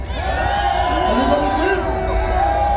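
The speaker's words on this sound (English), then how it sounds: "Let's give them a big rapturous round of applause." A live concert crowd cheers and whoops loudly with sustained applause, a dense roar of many voices filling the whole stretch without letting up.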